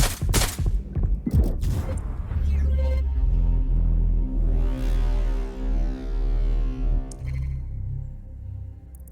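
Gunfire in Watch Dogs Legion, a few sharp broadband shots up front giving way to a sustained rumbling, distorted wash with a rising whoosh mid-clip, loud and heavy throughout.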